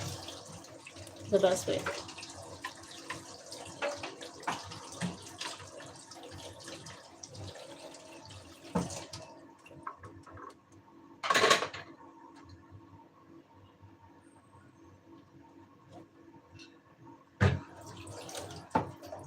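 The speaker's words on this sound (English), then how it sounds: "Immediately after using something, I rinse." Utensils being rinsed under a running kitchen tap while preparing beignets, with water splashing and rushing in uneven bursts, clattering now and then, and a person talking over it.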